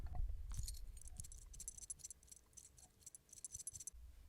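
Loose metal clasp on a magnetic watch rattles in quick, light bursts of jingling clicks, close and fairly faint, with a low handling rumble at the start.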